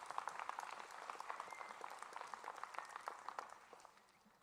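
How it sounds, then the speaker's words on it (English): A small crowd at a youth livestock show in Kingwood, West Virginia applauds the volunteer ring staff, brief moderate clapping that holds steady before fading out. "I think they all deserve a round of applause and should be commended for that"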